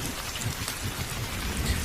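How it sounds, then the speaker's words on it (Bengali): Heavy rain from a Kalbaishakhi storm at night at a tea stall in a Bengali cartoon: a loud, continuous downpour drumming on surfaces with steady splatter and no voices. "এই বৃষ্টি কখন যে থামবে"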